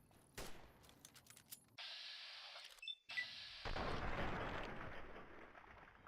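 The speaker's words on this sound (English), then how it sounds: "Who the hell is shooting at me?" Gunfire in the post-apocalyptic game Fallout: Tale of Two Wastelands: a sharp shot, a few scattered cracks, then bursts of noisy blasts and rumbling fire, fairly faint overall.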